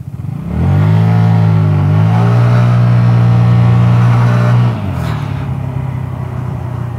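A Vespa GTS 300 scooter fitted with Tech Pulley variator rollers accelerates hard, its loud, close engine drone climbing in pitch and then holding steady before easing off near the end, with no talking.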